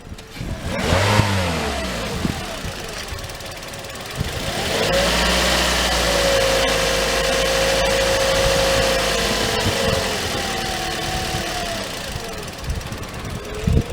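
Car engine at a towing and recovery auction with a slight idle issue, idling and revving as the vehicle drives forward and back, a loud close engine note holding steady after an early rev, with speech in the background.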